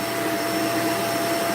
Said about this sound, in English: let's turn this vacuum back on again